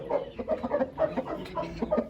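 Repeated clucking from a rooster, a string of short close calls in an uneven rhythm with no talking.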